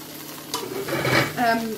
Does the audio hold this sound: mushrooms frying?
yes